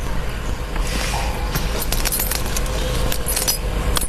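Car keys jangle and clink in a busy metallic shuffle, with repeated bright rattles throughout and steady background noise beneath.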